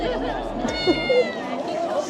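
A cat meows a few times up close at a cat lounge, its short tonal calls surfacing amid steady voices and crowd chatter.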